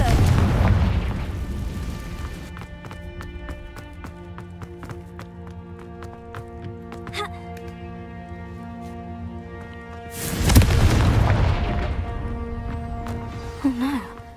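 Two loud booming blasts of the Confringo explosion spell in the video game Hogwarts Legacy, one at the start and one later, with ringing magical tones and soft game sounds between them.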